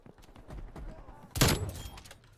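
A single sniper rifle shot fired in a first-person shooter game cracks out sharply and loudly mid-clip, preceded by quieter scattered game noise.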